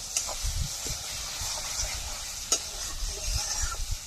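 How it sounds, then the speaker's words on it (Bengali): Mashed gaanti taro paste is stirred and fried in a pan for a traditional village-style dish, giving a steady close sizzle with soft repeated scraping and thumping strokes of the spoon. "এবার এটাকে ভালো করে নাড়াচাড়া করে ভাজতে হবে"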